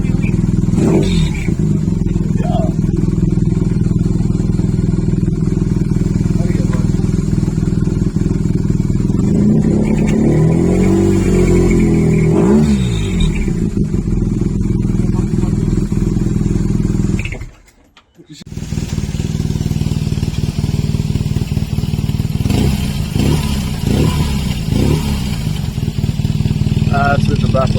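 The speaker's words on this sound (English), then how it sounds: "That's your exhaust sound now." A 2011 BMW R1200GS motorcycle engine runs through a GRmoto carbon exhaust, a loud close rumble idling and blipping with revs, dropping out briefly near the end before resuming, with someone talking over parts of it.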